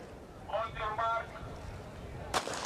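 A starting pistol fires to begin the men's race at the 2017 World Cross Country Championships: one sharp, loud crack that comes after a stretch of commentary.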